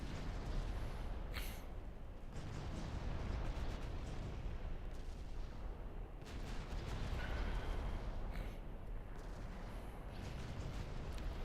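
Naval artillery in Ultimate Admiral Dreadnoughts, heavy booming gunfire from warships over a constant roaring rumble, with several distinct blasts spaced a few seconds apart and no talking.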